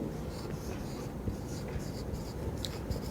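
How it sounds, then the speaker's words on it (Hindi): Chalk or marker scratches and taps on a board during a physics lecture on significant figures, a continuous close scribbling sound over a roomy background. "अब हम लिखते हैं इसमें"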